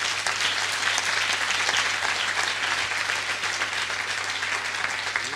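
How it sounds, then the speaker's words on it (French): A crowd at a hilloula for Rabbi Haim Pinto in Marseille claps loudly and continuously for the Marciano family, an even wash of applause lasting over five seconds over a low steady hum. "je veux qu'on applaudisse tous très fort maintenant"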